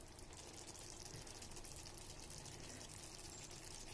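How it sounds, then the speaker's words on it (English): Water pours into a simmering lauki kofta curry with a steady, faint, even trickle and splash, no one talking. "I'm going to add a little more water,"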